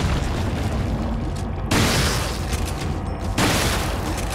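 Mine launcher explosions in the video game Resident Evil 4 land as two sudden loud bursts a couple of seconds apart, over a steady, noisy bed of game ambience.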